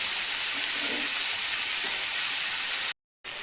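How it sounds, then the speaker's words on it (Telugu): Tomato pieces fry in a pan for a village-style dried anchovy and bottle gourd curry, giving a steady close sizzling hiss that runs without pause before a sudden brief cutout near the end. "టమాటా ముక్కలు బాగా ఫ్రై అయ్యాయి కదండి."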